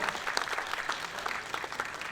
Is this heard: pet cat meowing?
no